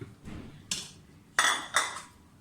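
Pieces of mutton go into a pressure cooker pot for yakhni, producing a few sharp metallic clanks and clinks spaced irregularly, close and fairly quiet.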